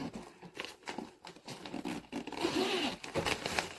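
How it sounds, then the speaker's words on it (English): Zippers on a lightweight COOLIFE hard-shell spinner suitcase are pulled in quick rasping runs, close and steady, with brief scratchy pauses between strokes and no talking. "Two zippers here."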